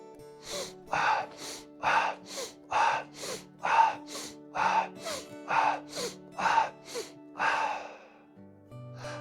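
Sharp, forceful nasal sniffs from the forward-step exercise of the Strelnikova breathing method repeat about a dozen times at an even, brisk pace, close and loud with no talking.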